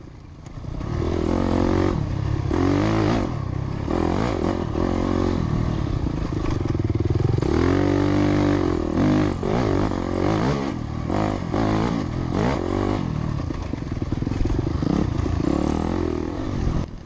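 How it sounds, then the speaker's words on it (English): A Honda dirt bike engine revs hard during a harescramble race, loud and up close throughout. The throttle rises and falls repeatedly, with clattering and scraping from the trail beneath it. "Catching up here to Ronnie Johns in his sexy Honda. Man, that thing sounds good."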